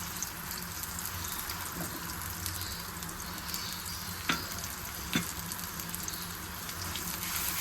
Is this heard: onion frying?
yes